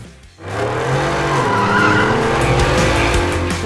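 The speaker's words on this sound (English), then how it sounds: "This supercharged Roush truck produces an impressive 650 horsepower, making it one of the fastest street-legal performance trucks out there" A 650-horsepower supercharged Roush F-150 Nitemare performance truck bursts into a loud, close engine roar with screeching tire squeal, sustained after a brief quiet start.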